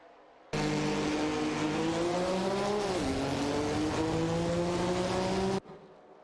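Race cars, including a Chevrolet Corvette, in a video game race roar past with a loud, steady engine drone whose pitch rises, dips sharply at a gear shift, then climbs again over about five seconds.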